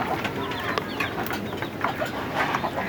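Free-ranging chickens, native hens among turkeys, cluck in quick scattered calls while pecking at grass and feed, close and steady over outdoor ambience.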